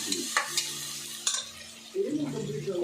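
Onions fry with turmeric and salt in a pan for mutton curry, a close sizzle broken by spoon scrapes and clatters as they are stirred.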